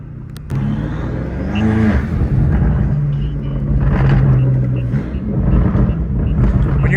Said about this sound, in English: can you hear my turbos pretty well?